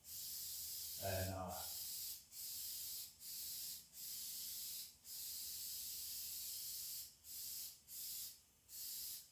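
A spray gun lays a heavy primer coat on a tractor, hissing in steady bursts with brief pauses between passes, close up, and a short voice near the start.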